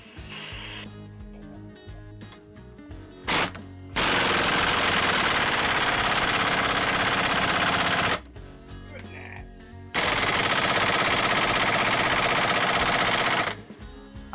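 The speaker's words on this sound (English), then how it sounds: "So I went out and got a gear puller, and we're going to pull it off with that." A gear puller and an impact wrench work to remove a CV joint, with long, loud bursts of rapid hammering that stop and start between quieter workshop stretches.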